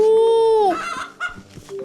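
A short clucking call from a chicken in the farming video game Kynseed rings out loud and close, followed by a brief burst of softer game sounds.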